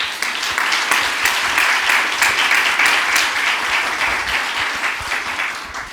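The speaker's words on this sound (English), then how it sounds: "Can we give a round of applause to them?" Audience applause for panelists at a climate action event, a dense, steady wash of many hands clapping for about six seconds, loud and sustained before easing slightly at the end.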